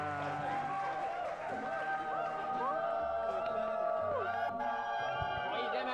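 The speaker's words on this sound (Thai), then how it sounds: "ขอเสียงปรบมือ" Crowd at a Thai university event cheers and applauds for a returning college star, a dense continuous roar of voices and clapping that stays loud throughout, with musical tones and talk mixed in.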